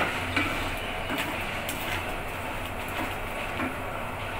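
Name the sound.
stirring coconut and sugar with milk in a pan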